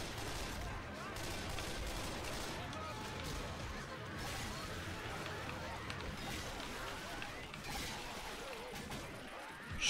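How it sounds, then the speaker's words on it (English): Gunfire from AI teammates laying down covering fire in the video game Left 4 Dead 2, a continuous fusillade of rapid shots, fairly quiet and steady, with voices talking underneath. "The AI is giving you some covering fire."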